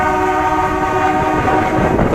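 A passenger train passes close by near a rural railway station, a loud continuous rumble of wheels and carriages with sustained horn-like tones over it, no voices.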